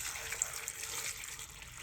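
Water running into a cooking pot for shrimp soup, a soft steady pour of faint hiss and trickle under room tone with no voices.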